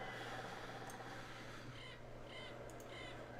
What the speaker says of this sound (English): where did they get the recording of this outdoor sound? The crows